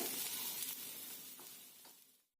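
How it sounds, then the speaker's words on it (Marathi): Bitter gourd slices sautéing in oil over a medium flame give a loud, dense, steady sizzle that fades slightly near the end before cutting off, with no one speaking. "मध्यम गॅसवरती सल घालून हे छानच परतून घ्यायचं"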